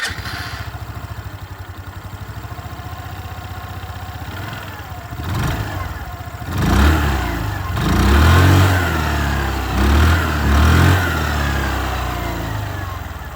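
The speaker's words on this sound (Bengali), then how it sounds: "এক্সস্ট সাউন্ডটা আপনাদের শুনিয়ে দিই।" A 2026 Hero Xoom 110 scooter's exhaust revving up close, with a quiet idle that rises into several loud throttle blips, each swelling and dropping back.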